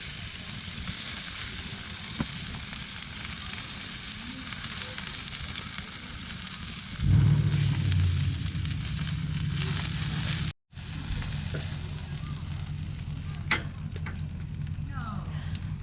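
Burgers sizzle and crackle steadily in pie irons over an open fire, grease leaking out, a dense hissing fry that grows louder partway through and continues without talk.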